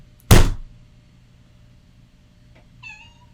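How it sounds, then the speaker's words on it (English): A house cat named Sophie leaps down from a high perch and lands with a single loud, close thump, followed after a pause by a faint knock and a short, thin meow. "That was the sound of Sophie jumping down from much higher up than she should have been."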